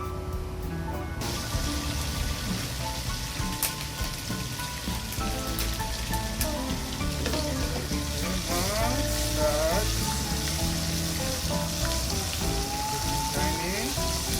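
Garlic sizzling in olive oil over a high flame, a steady dense crackle and hiss, close and loud, holding through the whole stretch with faint tonal sounds and light stirring on top.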